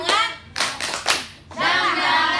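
A classroom of children claps a rhythmic cheer in quick bursts of loud, sharp hand claps separated by brief pauses, with young voices chanting in between.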